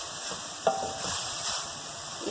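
Chicken for shawarma fries in a pan with a constant close sizzle, while a utensil stirs through it with soft scraping and one small clink.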